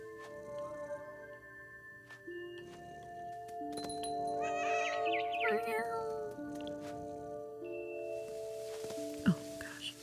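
A cat meows in the video game What Remains of Edith Finch, with a few short, wavering cries in the middle, set against sustained tonal game music and ambience.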